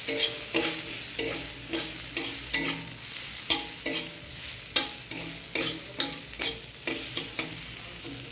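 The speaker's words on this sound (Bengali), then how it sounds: "কড়াইতে আমি সাদা জিরে, কাঁচা লঙ্কা, পেঁয়াজ আর একটু রসুন কুচো দিয়ে একটু হালকা ফ্রাই করে নিচ্ছি" Cumin seeds, green chillies, onion and chopped garlic fry in a wok with a soft, continuous sizzle. A spatula scrapes and taps against the metal in a steady rhythm of stirring strokes, close and clear, with no talking.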